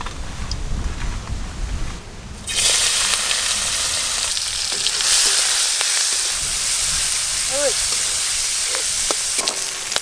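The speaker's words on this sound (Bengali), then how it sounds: "হালকা করে চিংড়ি মাছ ভেজে নিয়েছি" Shrimp and crab fry in hot mustard oil in a kadai. A loud, continuous sizzle rises suddenly after a quieter stretch and carries on with faint clinks and hiss.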